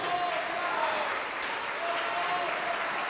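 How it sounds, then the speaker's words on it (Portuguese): A church congregation claps together in a steady, continuous wash of applause, heard at moderate distance, with voices faintly mixed in among the clapping. "vamos aplaudir ao nome do Senhor"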